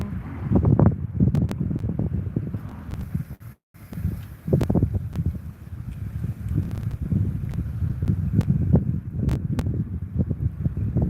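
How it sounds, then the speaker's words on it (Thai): Cool wind on a seaside bridge in Chonburi, Thailand, buffeting the microphone in uneven gusts with a low rumbling roar, loud and close, briefly dropping out before returning, with no talking. "ลมเย็น"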